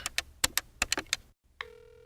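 A cell phone number being dialed on a keypad, a quick run of separate tones followed by a brief silence and then a steady ringback tone.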